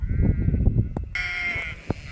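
A sheep bleats loudly and close by on a farm where sheep are being checked in a bare, grazed paddock, with a long wavering cry after some low rustling and handling noises.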